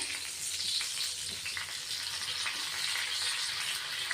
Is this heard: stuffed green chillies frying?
yes